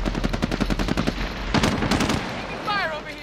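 Rapid machine-gun bursts and gunfire from Call of Duty: Modern Warfare, loud and dense, with a quick stuttering rhythm and a few sharp high whines near the end, under a voice speaking.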